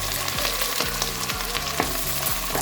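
Two medium sliced onions frying in hot oil for chicken tadka, a loud, dense crackling sizzle that continues without a break across the whole short stretch.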